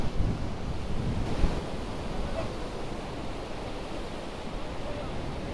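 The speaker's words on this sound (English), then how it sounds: "This is the bottom of the falls." Rushing water at the base of Iguazu Falls, a steady, dense roar of falling water mixed with wind buffeting the microphone, continuous and fairly loud throughout with no voices.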